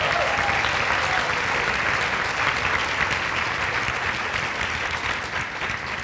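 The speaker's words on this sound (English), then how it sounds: "I just think we need to offer a round of applause to Mario, who is the mastermind." An arts summit audience applauds for a program organizer: sustained, dense clapping that stays loud and fairly even for several seconds, easing slightly toward the end, with no talk over it.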